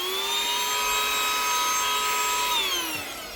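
A Bissell cordless hand vacuum running close by, a loud, steady high-pitched motor whine that slowly drops in pitch near the end as it powers down.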